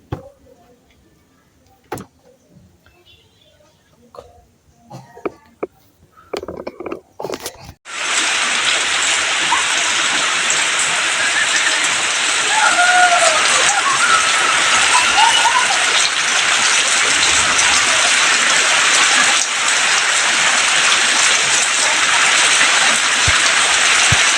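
First monsoon rain in the Konkan countryside, starting after a few scattered knocks and then pouring as a loud, dense, unbroken downpour that continues steadily for the rest of the stretch, with no voices.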